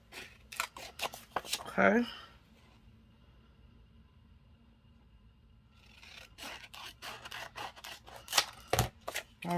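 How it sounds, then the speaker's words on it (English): Scissors snipping through folded paper for a lemon-themed mixed media junk journal, a few crisp cuts up close, with a spoken word before and a quiet pause before more cutting and handling noise. "we're going to fold this over just so I know where to cut"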